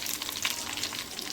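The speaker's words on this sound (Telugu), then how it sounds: "చట్నీలోకి వేసుకున్న తాలింపు" Tempering for chutney sizzles steadily in hot oil, with garlic among the spices, a dense continuous crackle with no voices.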